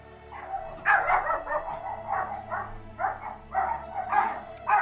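Several dogs barking and yipping in rapid, overlapping bursts, fairly loud and close, repeating steadily over a low background hum.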